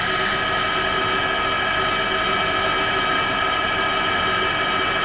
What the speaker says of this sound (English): Now it's ready to meet the first drill bit.